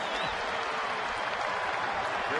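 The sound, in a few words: baseball crowd applauding at the stadium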